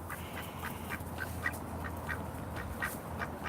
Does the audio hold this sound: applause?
no